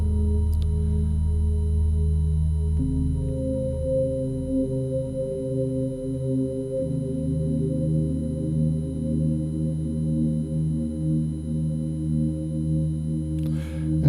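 An ambient synth pad is drenched in Valhalla Vintage Verb reverb, with sustained layered tones that shift to a new chord partway through and hang in a long, smooth wash without voices.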